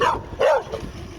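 A dog barks aggressively while chasing after a bike with a sidecar, giving two sharp close barks in quick succession, loud and without speech.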